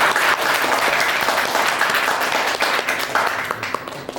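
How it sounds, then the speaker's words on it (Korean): A crowd applauds a politician at an informal youth meetup held on a cold day, a loud, dense and continuous clapping that fills the space from start to finish. "박수로 한번 이정현 의원님 맞아할까요?"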